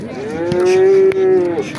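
At a livestock market, a cow gives one long, loud, sustained moo close by, rising and then trailing off, with faint background noise and no talk.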